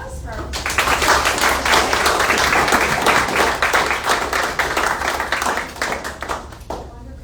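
A round of applause at a library commission meeting, with individual claps from a modest audience audible in the texture, swelling quickly, holding for several seconds, then thinning out.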